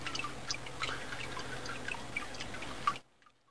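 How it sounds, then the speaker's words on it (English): Water dripping and trickling as it drains slowly out through small holes drilled in a PVC pipe baffle of a rainwater slow sand filter barrel, a steady patter of close drips that stops abruptly near the end. "It's just PVC pipe, little holes drilled in it, and it lets the water drain out slowly."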